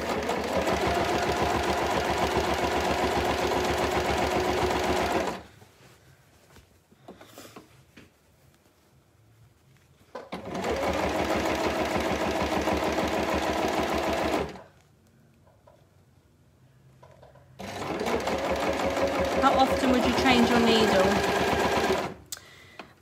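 A sewing machine runs in three steady bursts of about five seconds each, stitching along the bottom edge of a fabric shopping bag. Near-silent pauses separate the bursts.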